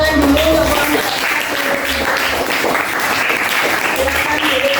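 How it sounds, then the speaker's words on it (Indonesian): A classroom of children applauds group 1 with dense, continuous clapping at close range, with a few voices audible under the applause. "Kasih tepuk tangan dulu untuk kelompok 1."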